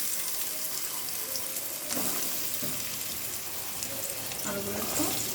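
Cut potatoes frying in hot oil make a loud, continuous hiss that fills the clip. A brief clatter of stirring comes near the start, with faint clinks later on.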